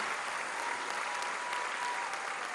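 A crowd at a public anniversary event applauds in a loud, continuous, even wash of clapping that holds steady throughout without speech over it.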